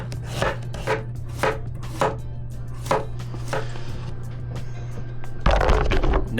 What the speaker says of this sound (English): I'm gonna break down 2 large cucumbers into a large bowl